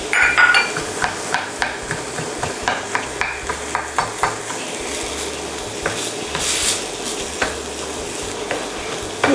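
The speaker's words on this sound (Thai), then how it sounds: "บี้ให้เครื่องแกงกะหรี่แตกนะคะ" A curry roux block is crushed and stirred in a hot pan, with repeated scraping and tapping of a utensil against metal under a soft, continuous sizzle, close and steady.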